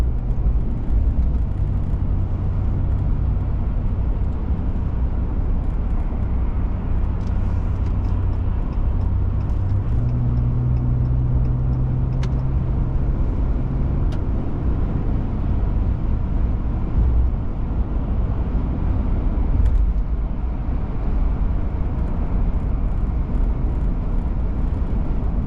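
Steady interior road noise from a car heading home from work in Canada, with a continuous low engine and tire rumble and no speech.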